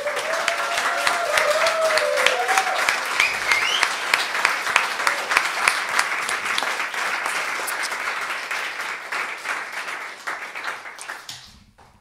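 An audience at an in-conversation event with a folk musician applauds at length, with a thick, steady clapping that includes a few whoops and cheers early on before fading out and stopping near the end.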